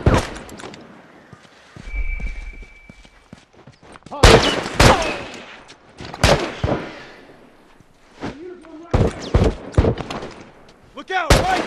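Rifle shots crack out in The Last of Us multiplayer, several loud, sharp reports spaced irregularly through a tense firefight, mixed with shouted voices between the shots.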